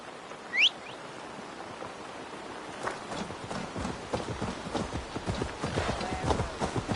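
A horse ridden through a Gloucestershire forest in a video game, its hooves clip-clopping in a steady, quickening rhythm that grows louder and denser over several seconds after a brief bird chirp, with no talk.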